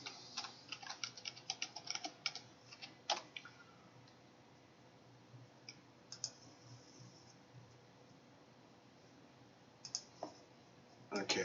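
Clicky keystrokes on a computer keyboard as a password is typed, in quick bursts of taps early on, then a few isolated presses after a pause, close and fairly quiet.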